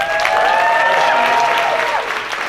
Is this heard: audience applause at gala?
yes